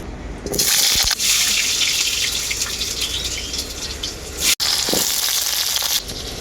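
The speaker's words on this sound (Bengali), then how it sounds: "তেলটা খুব ভালোভাবে গরম হয়ে গেছে আলুগুলো ভেজে নেব" Potatoes are dropped into very hot mustard oil in a wok, bursting into a loud, rushing sizzle that stays strong and steady, with a brief break and a couple of clunks near the end.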